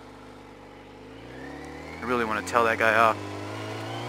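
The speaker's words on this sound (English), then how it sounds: "that jackass just ran a red light with their kid in the car" A car accelerates past at a city intersection after running a red light, its engine rising briefly and fading, heard from a stopped motorcyclist with someone speaking over it.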